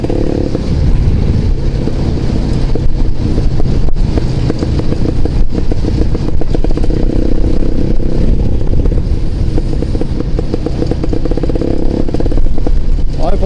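A steady, loud engine roar runs throughout without a break, like a motorcycle revving continuously in a game.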